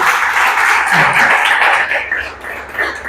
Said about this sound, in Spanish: Un aplauso para el Señor, mis amados hermanos.